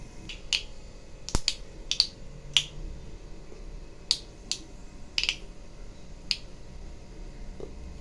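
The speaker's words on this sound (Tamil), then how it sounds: "இப்போ இது கடுகு நல்லா பொரியட்டும்" Mustard seeds splutter in hot sunflower oil in a small kadai, giving scattered sharp pops and crackles, some in quick clusters, against a quiet background.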